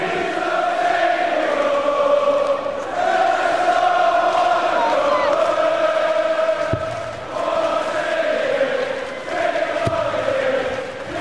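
Darts crowd at the Motorpoint Arena in Cardiff, singing a sustained chant together through most of the stretch, loud and continuous, with a couple of sharp thuds and no clear speech over it.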